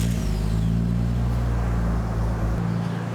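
A Nissan Skyline R32 sits idling with a deep, steady engine drone and low rumble that sounds close and loud, with a slight swell in revs before it fades near the end, and no voices.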